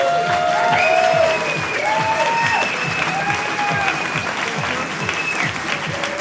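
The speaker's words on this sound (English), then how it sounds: "Do we have a round of applause for the artists?" An audience claps for the artists while a bright tonal melody with gliding notes plays over a steady rhythmic low beat, the applause blending into the music at fairly close range.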